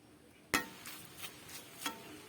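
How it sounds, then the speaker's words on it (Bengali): A spatula stirs drumstick leaves (sojne greens) cooked with jackfruit seeds in a pan: one sharp metallic clatter followed by a few lighter scraping clinks, fairly faint, with no voices. "শাকটা আমি ভালোভাবে নাড়াচাড়া করে নিচ্ছি"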